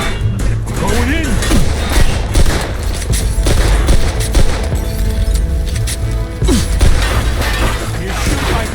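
Gunfire in Mafia II: dense volleys of shots crack alongside shattering glass and impacts, loud and continuous, while characters shout over the firefight.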